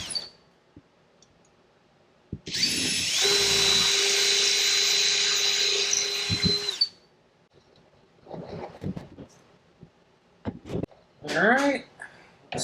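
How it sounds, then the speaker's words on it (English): A power drill bores two holes in a workshop: one long, loud steady whine lasting about four seconds, then quieter clicks and handling noises, with a brief voice near the end. "we'll drill out these 2 holes."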